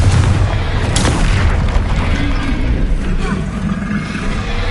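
Spell explosions from Hogwarts Legacy, including Confringo, Bombarda and Incendio, hit in a loud, dense barrage of booms and bursts that follow one another in rapid succession.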